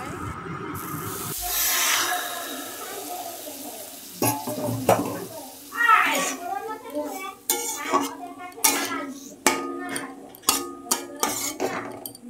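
Maggi noodles fried with potato and vegetables in a pan: a low sizzle runs beneath repeated metallic clanks and scrapes of a spatula stirring against the pan, loud and close.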